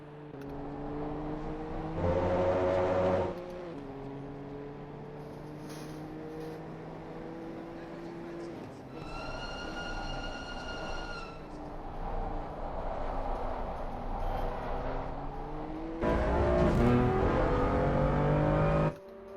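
Race car engine in Assetto Corsa Competizione at Snetterton, a steady drone with rising and falling revs through gear changes, surging louder near the start and again at the end, with no talk over it.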